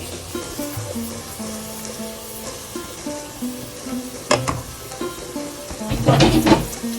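Spice paste for a beef tripe curry sizzles in a pan, a steady fry broken by louder scraping stirs near the end, with faint tonal music running underneath.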